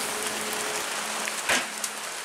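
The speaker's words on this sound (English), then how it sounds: "can you hear the rain on the roof of the sugar shack?" Rain patters steadily on the roof of a maple sugar shack, a soft continuous hiss of drops with a faint low hum underneath and a couple of slightly louder taps near the end.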